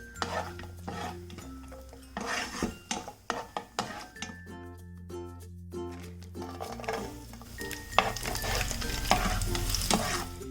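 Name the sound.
frying cashews and raisins in oil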